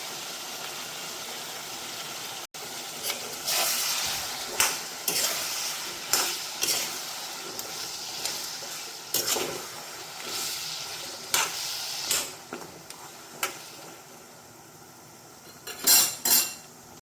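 A ground spice paste fries in a pan with a low background sizzle while a metal spoon scrapes and knocks against the pan in repeated, uneven strokes; close, moderately loud, with no voices.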